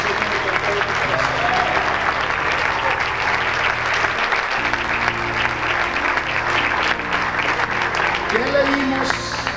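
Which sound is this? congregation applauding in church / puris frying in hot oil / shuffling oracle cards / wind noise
congregation applauding in church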